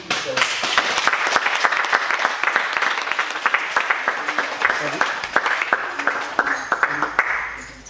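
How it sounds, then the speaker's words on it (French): At a martial arts club's season-closing ceremony, a crowd breaks into loud, sustained applause after the demonstrations, with many hands clapping densely throughout and voices mixed in beneath the clapping. "On vous applaudit."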